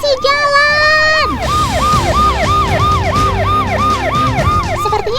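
An ambulance siren wails loudly and close, its rising and falling tone repeating rapidly under traffic noise.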